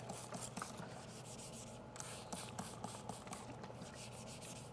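Fine-grit 3000 sandpaper rubbed by hand over car paint to refine scratches, a soft steady scratchy rasp with rhythmic back-and-forth strokes, close and fairly quiet.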